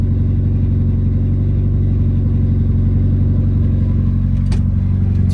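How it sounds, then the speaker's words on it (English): A car engine runs at a steady idle with a loud, close, continuous low rumble and a buzzing vibration, as if parts inside the cabin rattle. There is no clear revving. "I just wanted to show you guys an example of like what the car sounds like while it's running."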